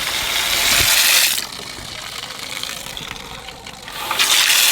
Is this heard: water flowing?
yes